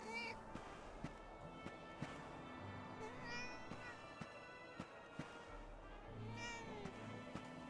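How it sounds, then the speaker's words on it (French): A cat meowing in the video game Dragon Quest XI S, several drawn-out mewing calls spread over a busy game soundscape with soft regular footstep taps, alongside a player's voice. "Petit chat."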